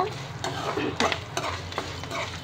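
Tempering spices and ginger pieces fry in hot oil, giving a continuous close sizzle with a few soft stirring scrapes and clinks over it, and no voices.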